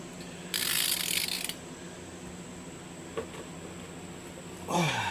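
A ratchet wrench clicks against a tight bolt on a KLR 650 motorcycle, a burst of rapid ratcheting followed by a single creak and a second short stretch of clicking, close and fairly quiet.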